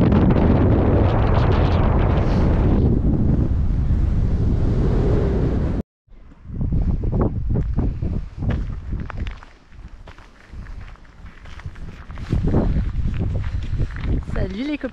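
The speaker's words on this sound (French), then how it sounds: "Voilà le vent quoi." Strong wind on the coast near Cap Nord roars and buffets the microphone loudly, cuts out briefly, then returns in gusts over crunching footsteps, with a voice faintly present beneath.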